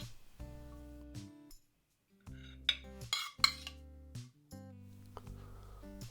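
Utensils clink and tap against a warmed plate as sautéed green beans (haricots verts) are plated beside a beef steak, a few sharp close clatters separated by quiet gaps.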